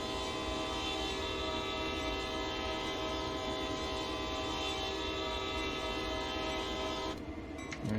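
A long, loud, sustained train horn sounds for a railroad crossing in the Train Sim World 2 game on Sand Patch Grade. It plays over the rumbling locomotive and stops abruptly near the end.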